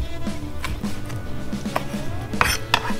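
A knife chops small reef fish into half-inch cubes for poke, with sharp, irregular taps against a cutting board and a few louder knocks near the end, close by and with no talking.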